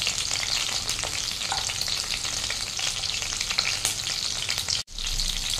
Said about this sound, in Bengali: একটা পিঠ ফ্রাই হয়ে গেছে, আর একটা সাইড আমি উল্টে দিচ্ছি, দিয়ে আমি তুলে নেবো ফ্রাইটা হয়ে গেলে।